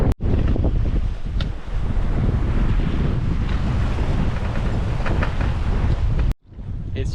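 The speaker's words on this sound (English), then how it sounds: "It's a little bit choppy out here, but as expected, you know, it's blowing 20 knots or so." Strong wind buffets the microphone over choppy ocean waves as a sailboat runs downwind in about 20 knots, a loud, continuous rushing roar with surging water, briefly dropping out twice.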